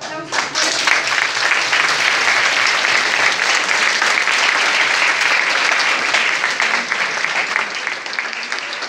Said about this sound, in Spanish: Pues démosle un aplauso.